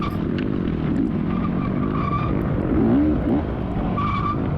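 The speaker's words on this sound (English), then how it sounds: "These are the most squeakiest brakes I've ever had" Squealing brakes on a dirt bike at a GNCC off-road race in Millfield, Ohio, rise in wavering high-pitched squeaks over a loud, steady engine roar, swelling near the middle of the clip.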